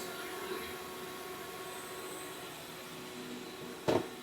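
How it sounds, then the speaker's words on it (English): A shop vacuum cleaner powered by a portable electric generator drones steadily with a constant whine, fairly quiet, and a brief louder bump near the end. "That's the vacuum cleaner"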